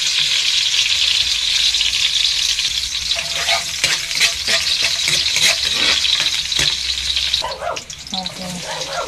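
Garlic sautéing in a pan for a Filipino fish sinigang, loud continuous sizzling with repeated scraping strokes of a spatula, close and busy throughout, with a faint voice near the end.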